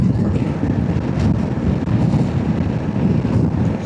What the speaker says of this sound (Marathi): लेफ्ट साईडनी ना खूप वारा आहे